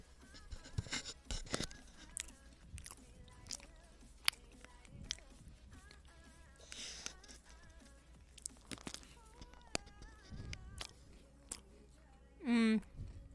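Crunchy vegan snacks chewed close to the mic in repeated irregular bites, with soft mouth sounds and brief quiet pauses between crunches, plus a short squeaky burst near the end.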